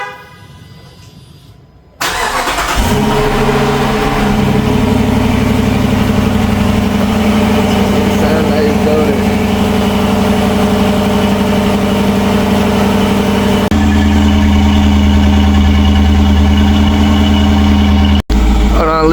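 A 2022 Dodge Durango V8 fires up after a cold start with a quick crank and catch, then settles into a loud, steady, rumbling idle that holds close for the rest of the stretch, dipping briefly near the end.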